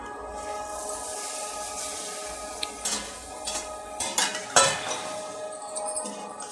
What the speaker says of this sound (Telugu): ఇప్పుడు మనం బోటి వేసేస్తాం.